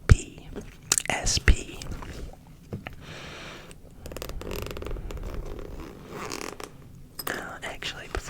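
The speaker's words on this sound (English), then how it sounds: "Those zipper sounds were pretty good." Zipper on a Game Boy Advance SP carrying case pulled in a few short, close scratchy bursts near the start, followed by soft handling rustles and quiet whispering.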